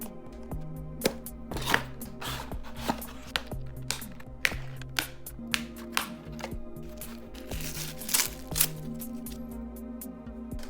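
Packaging around a Transformers Legacy United Deluxe Class Windblade figure is opened close up, with irregular plastic clicks, snaps and crinkling scattered steadily at moderate loudness and no talking.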